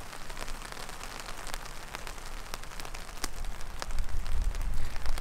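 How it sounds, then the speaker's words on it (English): Heavy rain pours onto a hammock shelter at a solo overnight camp, a dense steady patter of drops with scattered louder hits, growing heavier toward the end, with no voices. "The rain is really starting to come down now."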